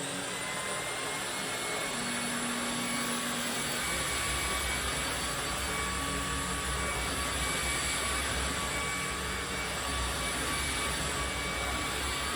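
An LG A905 Cordzero cordless vacuum cleaner runs on its medium setting, giving a steady, close whirring roar that grows slightly fuller partway through and continues unbroken with no talking.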